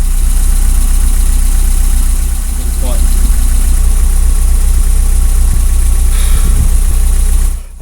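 An MG TF 135 sports car engine idles close by in a steady, unbroken low hum with light vibration throughout, fading slightly at the very end.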